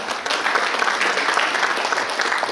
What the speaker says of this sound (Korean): 국회의원님께 큰 박수 부탁드립니다